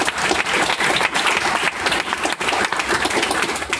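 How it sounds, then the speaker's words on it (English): A crowd at a food-and-tech startup meetup at Capital Factory claps for the pitch presenters, loud, sustained applause filling the room from start to finish. "let's give them a round of applause for everyone"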